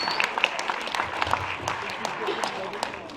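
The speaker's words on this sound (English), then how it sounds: "The gentleman right there. Give him a round of applause." Applause from a wildlife fundraiser auction audience greeting a winning bidder, a steady wash of clapping across the room with crowd noise and voices mixed in.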